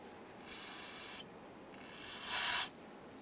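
Two short hissing bursts of aerosol solvent sprayed onto the exhaust manifold mating surface of a 1995-2001 Ford Explorer, the second louder and brighter, with quiet pauses around them.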